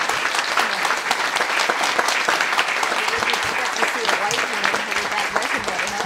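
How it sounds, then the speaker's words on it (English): An audience at a speech about a civil-rights sit-in claps to welcome the speaker, a close, dense and even round of applause that fills the whole stretch, with a few voices mixed in. "Please join me in welcoming Joan Trumpauer Mulholland"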